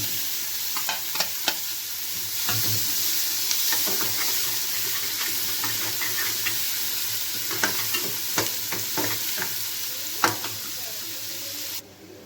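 Two onions fry in a large spoonful of ghee for an economical kabsa, a continuous close sizzle with scattered stirring clicks and scrapes throughout.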